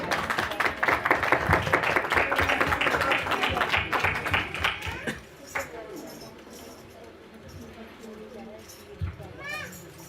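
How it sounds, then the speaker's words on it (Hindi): A church congregation claps loudly and fast in a dense burst, welcoming a singing team, then the applause thins and fades as a voice speaks over it. "जोर से ताली बजाकर इस टीम का स्वागत करें"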